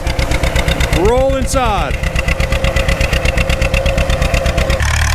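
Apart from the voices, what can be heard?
John Deere BR tractor engine running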